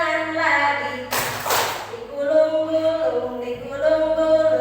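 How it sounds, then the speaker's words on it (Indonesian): Hands clapping in a classroom exercise, a short dense burst of claps lasting under a second amid children's voices and talk, with the room chatter continuing before and after. "tepuk tangan lagi."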